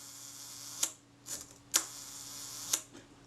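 Kodak Retina Ia leaf shutter set to one second, fired on a quiet bench: a sharp cocking or release click followed about a second later by the closing snap, with other small mechanical clicks around it, all close and crisp.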